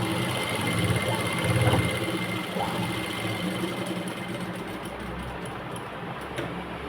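Sewing machine running steadily while stitching a baby frock for a 2-3 year old, a continuous close motor whir with slight speed changes and no talking.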